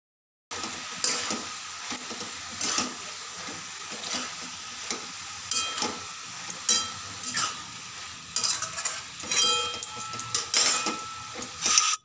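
Mixed vegetables with chili powder and bay leaves sauté in a pan for vegetable khichuri, a close steady sizzle broken by repeated bursts of stirring and scraping that rise and fall throughout, with no one talking.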